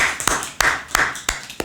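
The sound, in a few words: audience clapping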